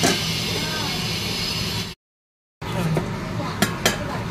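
A lid goes onto a pan of simmering katla fish kalia curry: a steady close sizzle, a brief silent gap, then a couple of light metallic clinks.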